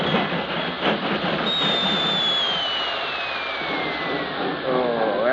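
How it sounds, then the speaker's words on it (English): Freight train groaning to a stop in a Denver freight yard as a radio drama effect: loud, continuous rumbling and clatter with a long descending metallic squeal of brakes, close and sustained throughout. "groaned to a stop in the Denver freight yard"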